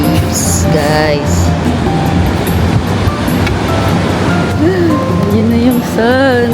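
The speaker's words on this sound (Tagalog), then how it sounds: "Yan yung waves, guys." Ocean waves at Cloud 9 on Siargao island roar as a loud, constant wash of surf, while people talk over it nearby.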